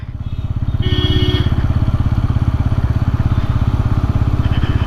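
A Bajaj Pulsar N160 4V motorcycle crawls along in third gear without throttle, its single-cylinder engine thumping in a loud, even, rapid pulse close by. A brief higher whine rises near the start.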